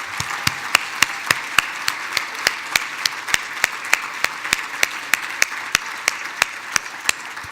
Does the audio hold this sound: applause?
yes